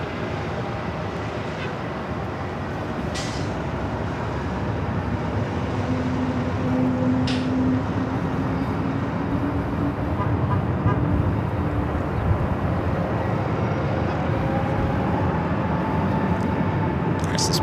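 A jet airliner rolls down runway 24 left at LAX for takeoff, a steady, heavy engine roar that holds loud throughout, with some distant talk faintly underneath.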